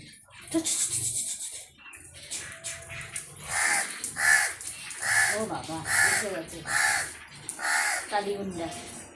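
Crows caw repeatedly in loud, harsh bursts, several calls in a row close by, with a person's voice in between.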